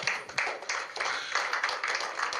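A room full of people at a Nigerian general election results event claps steadily, a brief burst of applause with dense overlapping hand claps.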